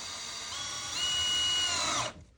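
A cordless drill driving a screw whines steadily, its pitch rising as it speeds up, then cuts off abruptly near the end.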